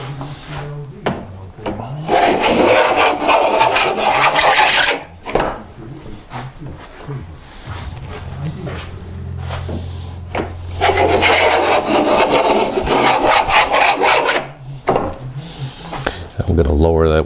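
A hand blade shaves wood to fit crown molding on a Chapin high chest, making repeated rasping, scraping strokes in steady bursts with short pauses between them.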